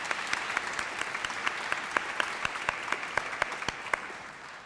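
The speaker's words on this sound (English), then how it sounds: "I think we'll have another round of applause for both people making this debate." Applause from an audience at a state final school debating event, a steady patter of many clapping hands with some sharper individual claps, continuous and fairly close throughout.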